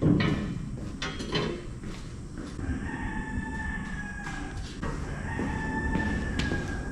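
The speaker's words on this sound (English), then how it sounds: "Cock-a-doodle-doo." A rooster crows a couple of times at moderate distance over a steady rumbling background in a workshop, with faint clanking.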